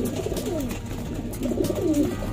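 Pigeons coo softly in a loft, their low throaty calls rolling over one another in a continuous murmur close by.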